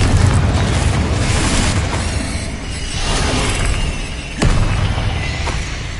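A Confringo fire spell blasting in Hogwarts Legacy combat on PS5, loud booming explosions with a dense rumbling roar that swells and surges again, no voices.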